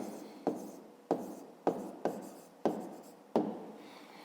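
Pen strokes scratch across a notebook page as a math exercise is written out, short rhythmic bursts of scribbling separated by brief pauses, close and quiet.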